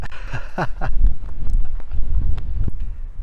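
Wind gusts across the exposed Malvern Hills ridge, buffeting the microphone with a loud, low rumble that runs throughout, while a voice briefly speaks near the start.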